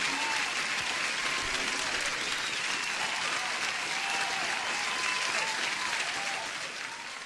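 Sustained applause from a crowd, dense and steady throughout, fading slightly at the end, with no talk over it.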